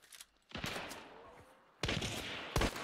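Gunfire in the game Hunt: Showdown: three loud, close bursts of shots, each followed by a noisy ringing tail, with short quieter gaps between them.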